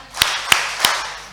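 Congregation at a Sunday church service clapping hands along with a sing-along song, three sharp, evenly spaced claps ringing out over a faint background.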